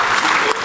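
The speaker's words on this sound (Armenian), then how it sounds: "Բարձր ծափարությունների ներքո Հրավիրենք ձեզ բեմը" An audience in a television studio claps together, a dense burst of applause that is loud and steady, then eases slightly near the end of a very short stretch.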